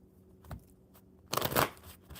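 A brief riffle of playing cards being shuffled, a quick papery flutter after a soft tap, fairly close.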